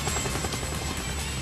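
Helicopter in a steep dive into a valley after taking a major hit under fire, a loud, steady rotor and engine roar filling the whole stretch without any voices.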